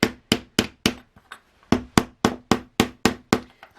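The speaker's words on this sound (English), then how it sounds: "I usually just hammer it like this to get it into a bit of a nicer shape" Sharp metallic hammer taps on a copper pendant ring out in a steady rhythm, about a dozen blows, with a brief pause midway, close and clear.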